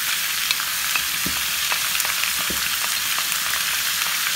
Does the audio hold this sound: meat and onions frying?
yes